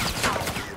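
Rapid burst gunfire from an XR-2 rifle in the video game Black Ops, a dense, continuous crackle of shots filling the whole moment at steady loudness with no talking over it.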